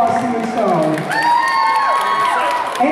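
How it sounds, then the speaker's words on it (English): A crowd at a Pokémon fan festival cheers and applauds for a judge, a steady wash of clapping with whoops and high shouts sustained throughout, fairly loud and close. "let's give a big round of applause, Steven Stone"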